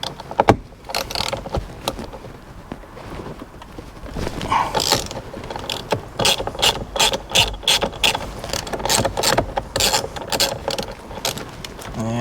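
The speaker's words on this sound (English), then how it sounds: "So now I can take the bolt off to undo the steering wheel." A ratchet fitted with a T50 Torx bit loosens the steering wheel bolt on a BF mkII Ford Falcon XR8 ute, giving rapid, close clicking bursts in an irregular rhythm, interspersed with brief knocks and handling noise.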